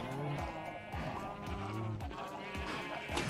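Sheep in Minecraft bleat several times in quick succession, wavering nasal calls overlapping one another at close range over a faint background.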